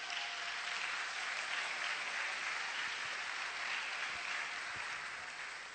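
A church congregation applauding in a sustained, dense wash of clapping that holds steady for several seconds and then begins to taper off slightly at the end.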